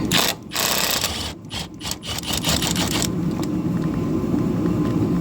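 A Milwaukee ratchet works a bolt loose on a '98 Dakota, giving a loud, close run of fast clicking pawl ticks in bursts before settling into a steadier mechanical whir.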